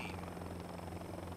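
Helicopter in the military video game Joint Operations Combined Arms, a steady close rotor drone with a dense buzzing texture, heard alone for a brief moment.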